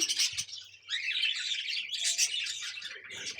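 Cockatiels chirp and tweet in their cage in the morning at feeding time, a dense run of bright, overlapping calls that goes on through the clip, close by and fairly loud, with no talking.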